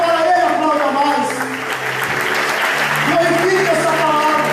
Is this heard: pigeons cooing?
no